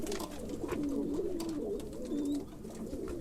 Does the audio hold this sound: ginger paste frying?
no